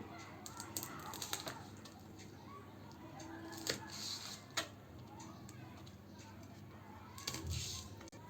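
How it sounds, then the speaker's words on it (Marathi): Green chillies being cut with a knife for raw mango thecha, heard as faint, sparse taps and clicks against a quiet kitchen background, with a few sharper knocks. "आता आपण मिरची कापून घेऊ"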